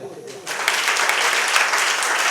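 A school crowd at a World Environment Day event bursts into applause, a dense, steady clapping that starts suddenly and holds loud and close.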